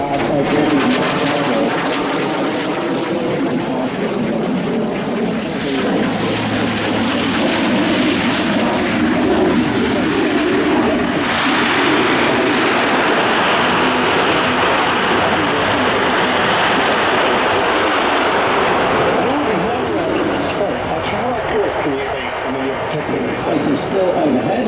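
A Hercules aircraft roars overhead during an air show at Avalon, a loud, continuous engine drone filling the whole span, with an announcer talking over it.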